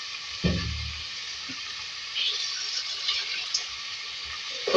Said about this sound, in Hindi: लहसुन का पेस्ट ऐड किया है मैंने तेल में। इसको फ्राई करेंगे 1 से 2 मिनट।